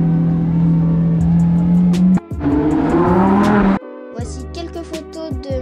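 Yellow car on the streets of Monaco revving its engine loudly nearby, a sustained roaring drone that cuts off abruptly, then sharper bursts of revs follow.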